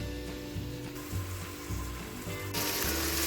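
Chopped onions sizzle in a few spoonfuls of hot oil inside a pressure cooker pot, a steady close frying hiss with scraping and knocking as they are stirred.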